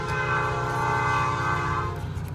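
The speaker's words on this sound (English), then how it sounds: "I apologize for the train." A train on tracks right beside a shop rolls past with a long sustained horn blast, loud and steady, fading out near the end.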